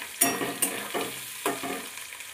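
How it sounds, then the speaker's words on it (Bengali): Small potatoes coated in salt and turmeric fry lightly in oil, a soft sizzle punctuated by several quick spatula scrapes and stirs against the pan, close and fairly quiet. "আলুগুলো আমি হালকা করে ভেজে নিয়েছি"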